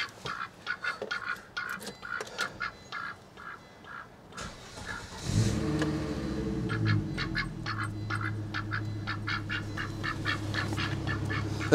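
Rapid runs of duck quacks sound close by at the start. Partway through, a Volvo T-5 engine cranks and settles into a steady idle, and more quacking bursts continue over the running engine.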